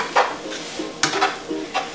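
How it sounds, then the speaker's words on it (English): Egg being stirred vigorously into pasta in a pan, with a spoon scraping and clinking in a few quick strokes over a faint sizzle. "And stir, stir, stir."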